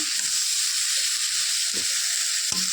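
Jackfruit curry with cumin and chilli fries in a pan, giving a loud, steady, close sizzle throughout, broken by a few soft scrapes and knocks of a stirring utensil.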